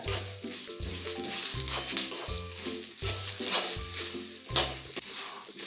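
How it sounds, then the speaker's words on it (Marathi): Sesame seeds, fenugreek seeds and curry leaves fry for sambar masala in a pan, giving a soft steady sizzle with repeated scraping stirs and light metallic knocks against the vessel, moderately close and fairly quiet. "नंतर टाकतोय आपण आता कढीपत्ता याला काय करा आता प्रॉपर फ्राय करून घ्या"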